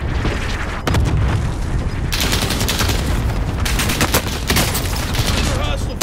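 Rapid gunfire and explosions in the video game Call of Duty: Modern Warfare, loud bursts of automatic fire crackling continuously with booms, under occasional game voice chatter.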